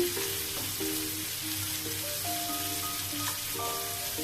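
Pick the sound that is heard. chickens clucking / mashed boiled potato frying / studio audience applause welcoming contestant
mashed boiled potato frying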